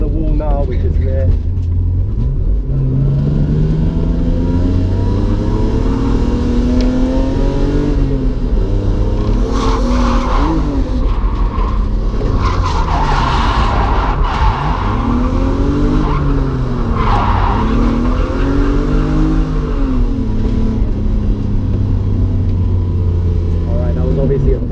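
A car drifts around the Driftland UK track, its engine revving hard and dropping in repeated sweeps while tyres squeal through the slides, loud and close, with voices over the noise.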